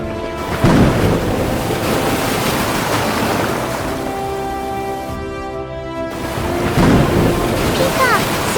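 A fierce animated storm roars continuously with rumbling thunder, rushing wind and rain, loud throughout, as voices speak over it.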